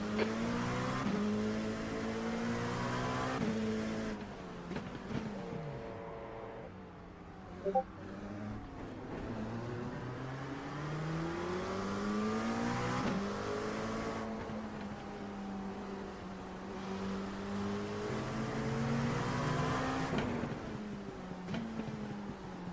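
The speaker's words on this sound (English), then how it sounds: "There's a car approaching." A race car on the Nürburgring Grand-Prix circuit in an IMSA series round, its engine droning steadily with rising and falling pitch sweeps as it approaches and passes, loud and continuous throughout.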